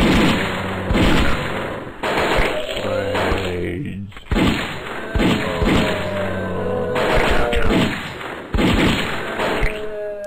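Repeated gunfire from a Halloween-themed zombie shooting video game, loud bursts of shots and thuds firing in quick clusters with brief pauses between volleys, heard up close.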